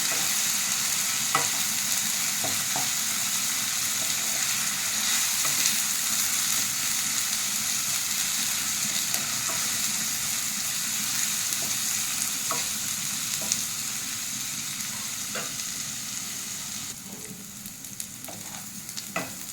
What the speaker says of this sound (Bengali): এটাকে ভালো করে ভেজে নিতে হবে, যতক্ষণ না আদা আর কাঁচা গন্ধটা চলে যায় ততক্ষণ এটাকে ভালো করে ভেজে নিতে হবে।